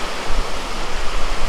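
Jogini waterfall in Manali pours fast-flowing water in a steady, dense roar that stays loud and close throughout, with no voices over it.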